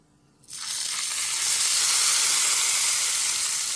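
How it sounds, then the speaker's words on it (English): Hot oil with chili powder bursts into a loud, bright sizzle after a short quiet start, then keeps crackling steadily. "Wow, the sizzling sound of the"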